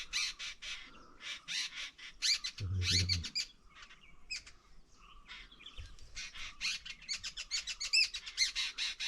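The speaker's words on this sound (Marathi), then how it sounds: "त्यांचा कानेर खूप असतो, नुसतं चिवचिव करत असतं" A flock of chikati birds chirps busily in a tree, with dense, overlapping high tweets coming in rapid bursts. A few caw-like calls and a brief low thump sound partway through.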